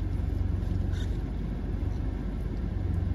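A bosozoku biker's motorcycle engine idles and revs in a steady low rumble, heard from a distance outdoors without any talk.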